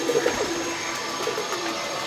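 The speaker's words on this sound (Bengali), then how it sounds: "এই কবুতরটাকে আমি এখান থেকে ছাড়বো" Domestic homing pigeons on a home balcony give a few soft, low coos near the start, followed by a fainter coo later over light background hiss.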